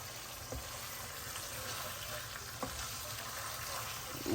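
Chicharon crisping in hot lemongrass-spiced chicken oil, a steady low crackling sizzle with occasional small pops, moderately faint and continuous throughout.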